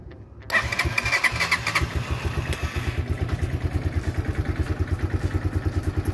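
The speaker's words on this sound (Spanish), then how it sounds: "ya tiene que prender la motocicleta, así que vamos a revisar" A Rocketman Sport 250 motorcycle, just fitted with a new starter solenoid, cranks and fires up, then settles into a steady, close, even idle with a regular clattering pulse.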